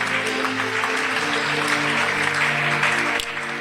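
A church congregation applauding during a worship service, with steady clapping throughout and an underlying tonal hum from music or voices, ending in a brief sharp accent near the close.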